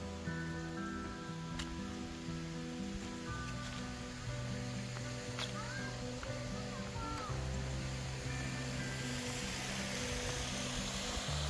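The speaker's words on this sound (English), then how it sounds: "Nice little waterfalls." Steady rushing of small cascading waterfalls in Rodini Park, Rhodes, Greece, in November, fills the scene, a constant broadband splash with faint voices and other sounds mixed in.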